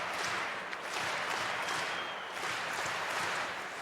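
A crowd at a Sioux college ice hockey game in 2008 gives off a steady, distant roar of cheering and clapping that holds at an even level throughout.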